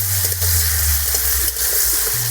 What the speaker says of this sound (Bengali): চর্বিগুলোর সঙ্গে পেঁয়াজটাকেও বেশ ভালোভাবে ভেজে নেব